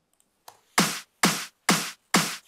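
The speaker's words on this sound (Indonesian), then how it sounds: "Next ada snare fill. Gua namain snare fill." A snare fill from a drum sample in a beat: one soft lead-in hit, then four crisp, evenly spaced snare cracks, each with a short bright decay.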